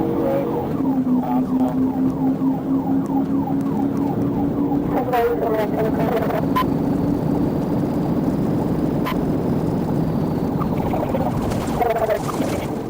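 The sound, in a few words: police car sirens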